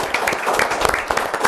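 Studio audience applauding in a television studio: a short, close, dense burst of clapping lasting under two seconds.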